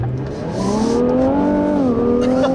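A 2017 Infiniti Q60 Red Sport 400 with all-wheel drive accelerates hard, its engine note climbing steadily in pitch as it revs, loud and close, briefly easing before rising again.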